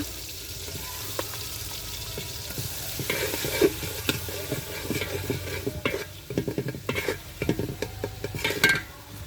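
Garlic paste sizzles in oil in a pot while being stirred for village-style khichuri, a steady frying hiss broken by rhythmic spoon scrapes and clinks against the metal that grow busier and louder toward the end, with no talk.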